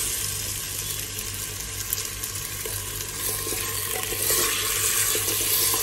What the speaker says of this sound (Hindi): इसको अच्छे से मैं थोड़ा सा भून लूँगी